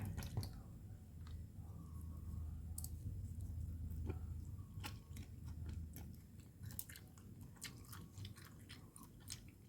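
Close, soft chewing of a mouthful of food, with wet squishy bites and small clicks repeating irregularly over a quiet background, fairly faint throughout.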